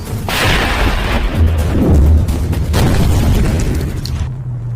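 Tank shells exploding in a war setting on the Pakistan front, heard as a near-continuous barrage of loud, deep booms that roll and overlap across the whole stretch, with heavy rumbling low end and no talk.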